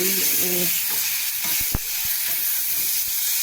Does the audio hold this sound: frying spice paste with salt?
yes